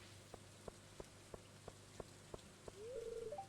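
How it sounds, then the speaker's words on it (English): Soft, quiet rain falling in the farming game Stardew Valley, a gentle continuous patter with a few regular brighter drips, then a short rising game chime near the end; no talking. "Man, I love the rain noises in this game."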